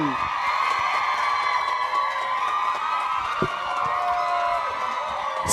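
A theatre audience cheers and claps continuously to welcome two lead actors onstage at a Thai series press launch, a dense steady crowd roar with whoops and shouts throughout.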